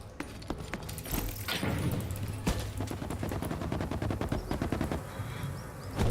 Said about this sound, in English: Hey look, more shots.